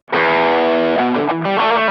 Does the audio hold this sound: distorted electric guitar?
yes